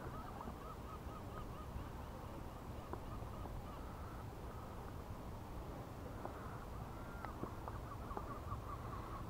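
Gulls flying overhead a fishing boat in an east wind, hunting fish, give a dense, continuous chorus of honking, squawking calls, moderately loud, over constant wind and water.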